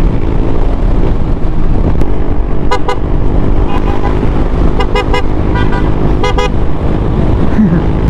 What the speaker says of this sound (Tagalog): nakikipagbatian sa busina